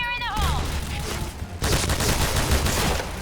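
Sustained bursts of L86 LSW light machine gun fire in the shooter game Point Blank, loud and close, with a brief sweeping game tone at the start and a short gap before a denser second burst.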